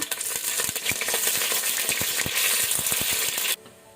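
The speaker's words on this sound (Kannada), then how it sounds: "ತುಪ್ಪ ಬಿಸಿಯಾದ ನಂತರ ಮಸ್ಟರ್ಡ್ ಸೀಡ್ ಸಾಸಿವೆ ಹಾಕೊಳ್ಳುವ. ಚಟಪಟ ಆಗಲಿ, ಕ್ರ್ಯಾಕಲ್ ಆಗಲಿ." Mustard seeds crackle and pop in hot ghee, a dense run of sharp sputtering snaps over a steady sizzle, close and loud, stopping abruptly near the end.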